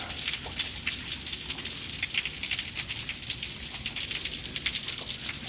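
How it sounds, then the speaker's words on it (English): Waterfall spray pouring off a rock into a pool in a Starved Rock canyon, a steady dense hiss of falling water splashing close by, with no talk over it. "You can see it spraying down into the pool here."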